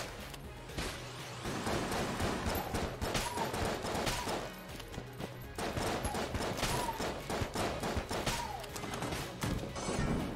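Rapid bursts of gunfire fill a round of the video game Enter the Gungeon, dense overlapping shots with crashes and impacts sounding continuously at moderate level.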